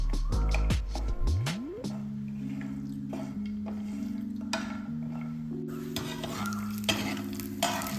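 Cashews sizzle steadily in hot oil for coconut payasam while a spoon clinks and scrapes the pan, with a faint tonal hum underneath.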